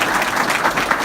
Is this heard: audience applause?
yes